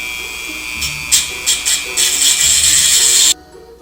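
A small handheld drill whirs close and loud in short bursts, then runs steadily for about a second and a half before cutting off abruptly, while working on a standard bead for a stud earring.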